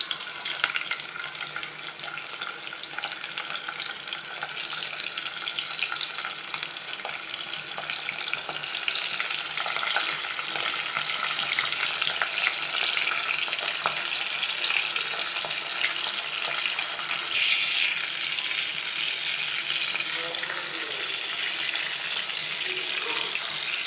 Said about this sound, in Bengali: এখন আমি এখানে মাছগুলোকে ভেজে নিব।